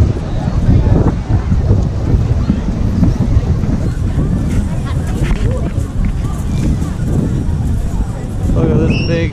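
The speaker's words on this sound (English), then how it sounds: "Trying to block the wind here." Strong wind buffets the microphone on a beach at Porto de Galinhas, Brazil, a loud continuous roar with gusts that fills the whole stretch, with faint voices beneath it.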